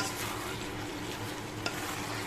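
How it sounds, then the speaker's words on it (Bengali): Chicken pieces being stirred through chilli sauce in a hot pan, a steady broadband sizzle with soft scraping and one brief sharper knock near the end, no voices. "এই দেখো, ভালো করে এটা নাড়াচাড়া করে নিচ্ছে"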